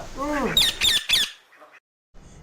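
A cartoon bird squawks in a few sharp, harsh bursts following a child's high-pitched voice, then trails off into quieter chirps before brief silence.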